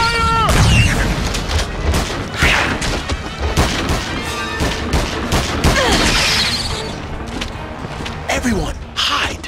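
Heavy gunfire in the Peter Jackson's King Kong game, a loud fusillade of sharp cracks and booms layered with shouting voices and dramatic score throughout.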